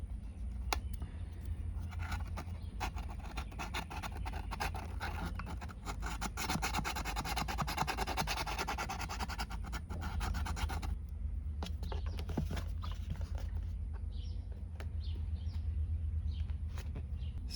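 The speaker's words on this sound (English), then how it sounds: "take the sanding stick and clean up around the hole and get all this loose plastic out" Steady scratchy rubbing of a sanding stick against a plastic fuel tank around a hole, continuous and close, with a brief busier stretch before easing off.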